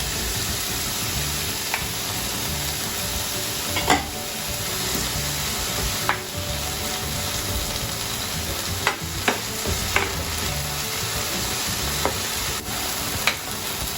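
Finely chopped bell pepper and onions fry in a pan for samosa beef filling, a steady close sizzle broken by scattered scrapes and clicks of a utensil stirring.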